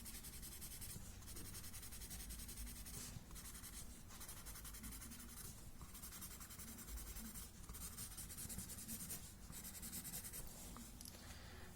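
Graphite pencil shading a Vitruvian figure drawing on paper, a continuous close, soft scratchy rubbing with brief pauses between strokes, no voices.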